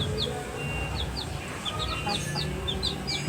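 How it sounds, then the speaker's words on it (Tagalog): Chickens cluck in short repeated calls over a busy farmyard background of low rumble and noise, fairly close with no talking, at a pigeon loft. "Hindi lang kalapati alaga natin, may manok din, no?"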